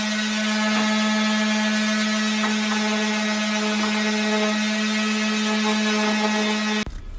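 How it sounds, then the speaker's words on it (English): Power sander working the edges and ends of wooden shelf boards, a loud, steady, close droning hum with a constant tone that cuts off abruptly near the end. "we went ahead and sanded just the edges and the ends of the boards too"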